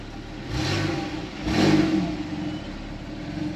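A Porsche 911 Targa 4S (997.2) engine with sports exhaust fires up with two sharp revving bursts close by, then settles into a low, steady idle rumble.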